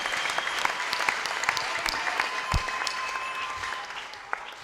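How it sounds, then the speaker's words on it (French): A church congregation at a Sunday service in a Christian tabernacle in Kasika claps in sustained applause, a dense, steady patter of many hands heard from within the hall, with a few louder claps standing out. "Applaudissons pour Dieu."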